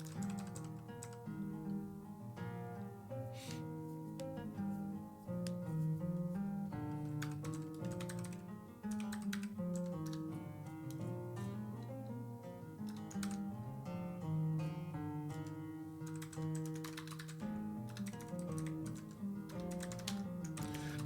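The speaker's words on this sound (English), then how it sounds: "now we are typing it ourselves" Computer keyboard typing while writing C++/Odin code, rapid irregular key clicks running steadily for about twenty seconds over a sustained musical backing, no voices.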